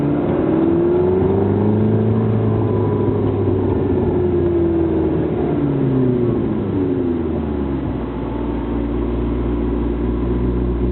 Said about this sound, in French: on entend tout de suite un peu plus le moteur